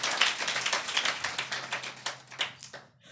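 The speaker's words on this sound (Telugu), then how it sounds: "ఒకసారి చప్పట్లు కొట్టి ప్రభును మనము ఘనపరచుదుము గాక" A church congregation at a Sunday worship service claps hands in praise, a dense patter of many claps that thins out and stops near the end, moderately quiet and without speech.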